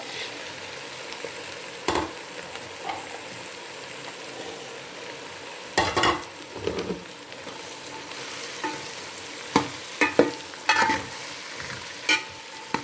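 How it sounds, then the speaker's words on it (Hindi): Okra frying in ghee with red chilli and turmeric over high heat, a steady soft sizzle broken by several sharp scraping stirs of a spoon in the pan, with no talk. "तेज़ आंच पे भिंडी को भूनेंगे।"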